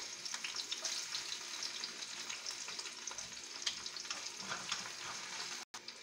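Garlic, ginger and a little scallion fry in oil for chicken cooked with beer, giving a dense, even sizzle that hisses throughout and cuts out for a moment near the end. No one speaks.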